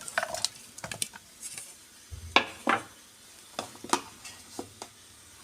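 Vegetables go into a baking tray for a tuna fish dish, irregular clatters and soft thuds of pieces and utensils against the tray, close, with quiet pauses between bursts and no voices.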